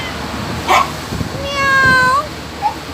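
A cat meows in a few short tonal calls, with a clear drawn-out cry in the middle, heard close over steady windy rumble on a ship's cargo deck during a long sea voyage, and a voice briefly imitating the meow.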